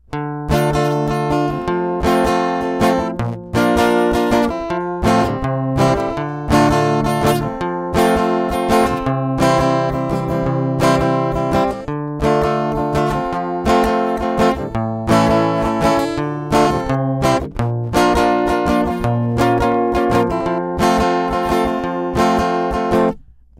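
Strummed guitar chords ring out in a steady, driving rhythm, bright and loud throughout, with no voices.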